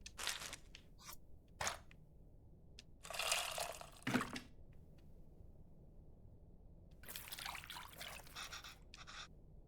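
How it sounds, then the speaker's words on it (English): In the cooking game Venba, tamarind is worked into water in a bowl: short bursts of squelching, trickling liquid and crunchy wet squeezing, separated by quiet gaps, near and moderately loud, without speech. "Looks like I have to mix the tamarind with the water to extract its essence multiple times."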